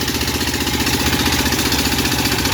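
A large engine drives a Thai rice threshing machine outdoors, running steadily with a loud, continuous mechanical drone and a fast rhythmic pulsing.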